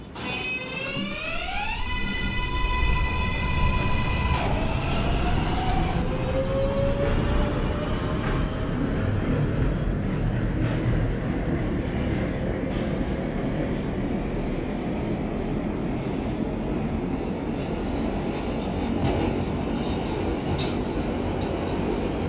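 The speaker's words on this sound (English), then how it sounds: "This is a Brooklyn-bound Z skip stop train." An NYC Subway R143 Z train in the OpenBVE simulator pulls away, its motors whining upward in rising tones over a heavy, steady rolling rumble that carries on loudly without any voices.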